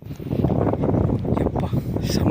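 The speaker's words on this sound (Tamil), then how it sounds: "செமையாக காற்று வருதுங்க" Strong wind gusts across the microphone on the shore of Pulicat Lake, a constant roaring rumble with bursts of buffeting, and someone talks through it.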